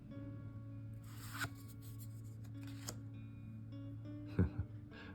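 Matte-finish oracle cards are shuffled softly in a quiet room, giving a few short papery riffles and rubs spread across the stretch.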